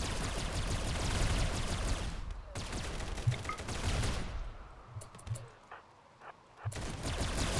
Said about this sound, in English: The laser effects are pretty good for the guns.